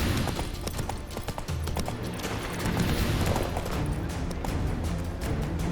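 Horse hooves clip-clop at a steady walking rhythm in The Witcher 3, close and clear over a low ambient bed, with no speech.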